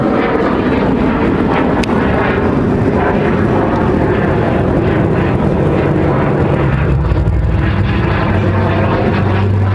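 Breitling Jet Team jet flying low and slow with landing gear down while rolling over an air show, a loud sustained engine roar and rushing whine up close, with no pause.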